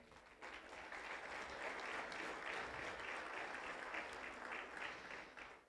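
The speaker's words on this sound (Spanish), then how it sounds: "Dale palmas a Él" Church congregation applause during a Spanish-language sermon, steady crowd clapping rising quickly and holding for several seconds, heard from a distance and fairly faint.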